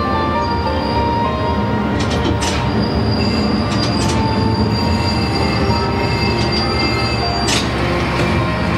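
A JR West Kisuki Line train pulling into Miinohara station, high in the mountains, with a loud steady rumble, engine drone and sharp wheel squeals, no talking.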